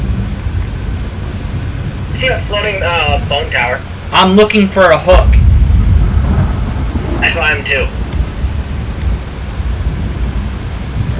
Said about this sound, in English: Oh, we got hail.